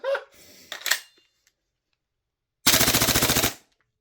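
A Tokyo Marui MWS airsoft gas blowback rifle fires one short full-auto burst of about a dozen rapid, evenly spaced cracks. It comes loud and close after some brief handling clicks and near silence.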